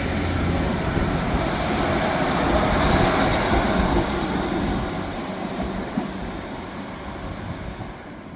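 Train 156484, running as 2C56 from Carlisle to Whitehaven, passes with a loud, steady rumble and rattle that slowly fades toward the end, with no talk.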